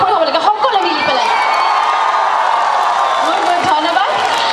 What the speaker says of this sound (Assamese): এবাৰ হাত চাপৰি হ'ব লাগে সকলোৱে মিলি পেলাই